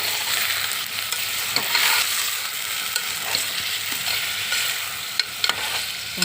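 Goat offal curry is stirred in a frying pan, with a continuous sizzle beneath intermittent scraping and clinking strokes of the spoon, close and fairly loud throughout.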